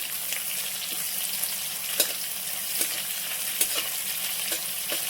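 Curry leaves and green chillies sautéing in hot oil, a continuous close crackling sizzle with occasional sharp pops and light stirring scrapes, no voices over it.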